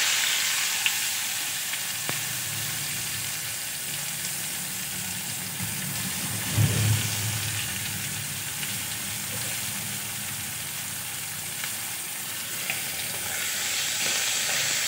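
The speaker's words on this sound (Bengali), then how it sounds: "এখন আমি কেটে রাখা পেঁয়াজগুলো দিয়ে দেব" Chopped onions hit hot oil in a pan and crackle in a bright, continuous sizzle, with one brief thud of stirring partway through and no talk.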